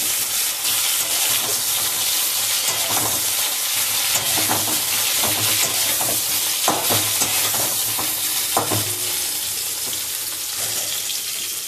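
Cauliflower frying in a small amount of mustard oil on a low gas flame, a steady close sizzle with repeated scraping and stirring clatter of a utensil in the pan.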